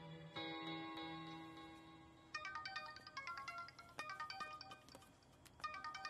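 A phone ringtone plays a repeating electronic melody of bright, quick beeping notes, after a brief sustained tone; fairly close and clear.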